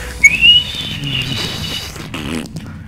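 A kettle's high, steady whistle as water boils rises briefly then holds as a thin tone, fading toward the end over a faint background hiss.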